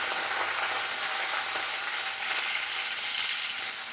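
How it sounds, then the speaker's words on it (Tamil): Garlic and curry leaves sautéing in oil in a pan, a steady close crackling sizzle with a busy, hissing texture that continues evenly throughout. "பூண்டு போட்டதும் ஒரு கொத்து கருவேப்பிலையை போட்டுருங்க. நல்லா வதக்கி விடுங்க."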